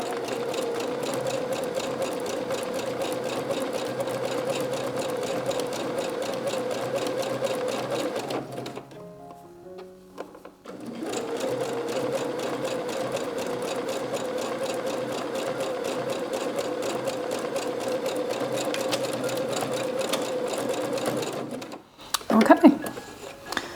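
A sewing machine stitches underwear fabric in long steady whirring runs, broken by a short pause near the middle and ending with a brief clatter.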